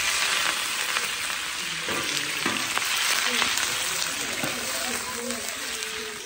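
Chiles fry in oil in a discada, giving a steady bright sizzle and crackle throughout while voices talk quietly underneath.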